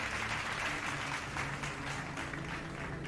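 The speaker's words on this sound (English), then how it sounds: "There's loud claps." Loud, dense applause from a stream alert, steady clapping and cheering that fills the whole moment, played over gameplay of Mass Effect Legendary Edition.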